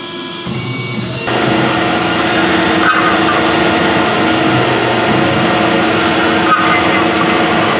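A CNC mill machining an aluminum guitar bridge plate gives a steady, loud whine with grinding and cutting noise throughout, starting quieter for the first second before the cutting engages fully.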